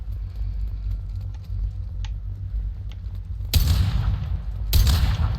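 Two loud, dense bursts of gunfire from the video game Mass Effect 2 cut in over a low ambient game hum, the first lasting about a second and the second shorter.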